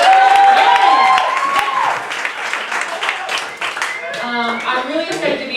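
Audience clapping at a comedy fundraiser held by the Belmont Lions Club, a loud burst of many hands that fades after a couple of seconds, with someone talking over it and afterward.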